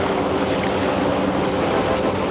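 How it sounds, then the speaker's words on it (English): Ocean waves splash and wash continuously in a dense, loud roar of surf, with wind buffeting the microphone and no voices. "the waves are splashing"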